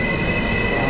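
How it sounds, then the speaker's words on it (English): Train at Helsinki airport railway station, a steady loud rumble of rolling wheels and carriage noise with a faint high squeal, continuous throughout without talk. "So this is the train."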